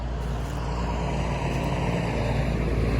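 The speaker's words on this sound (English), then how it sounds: "Oh, concrete truck." A concrete truck drives past, a steady loud rumbling engine and road roar that fills the whole stretch without a break, with no talk over it.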